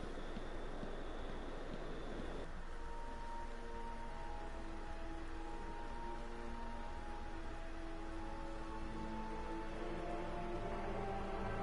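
Steady rain falls in Batman: Arkham Asylum as an even, continuous hiss with faint tonal game ambience underneath, no voices.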